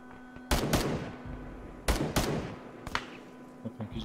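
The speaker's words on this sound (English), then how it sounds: "One's in that bush I'm shooting at right now." Gunfire in the military game Arma 3: sharp single shots in pairs, three bursts of two or three cracks spaced apart, fairly close with faint echoing tails, then softer distant pops at the end.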